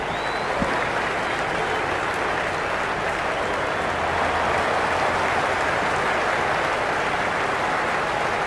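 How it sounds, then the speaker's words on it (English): A stadium crowd at a video game cricket match, India versus Netherlands in a T20 World Cup on Cricket 26, applauds and cheers in a steady, dense roar that holds at an even level throughout without a break. "It's almost palpable, the excitement emanating from this crowd at the moment."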